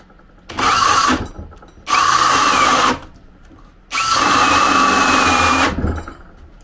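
ProCraft CD20A cordless drill running in three bursts, with a high whining motor at full speed during a kickback control test, separated by short pauses.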